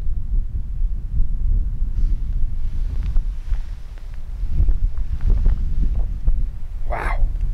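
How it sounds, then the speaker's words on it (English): Strong wind gusting in open Alaskan country, buffeting the microphone in a steady low roar with a brief sharp sound near the end. "It's windy."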